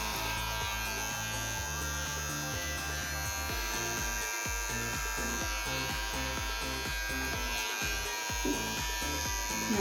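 An electric beard trimmer buzzes steadily while trimming a man's beard and neckline, its hum rising and dipping in quick, regular pulses as it passes over the hair; close up and fairly quiet.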